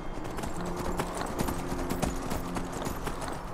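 Horse hooves clip-clop steadily in Skyrim, a video game, a quick, even rhythm of close, clear hoofbeats as the mount crosses a river, with no voices over it.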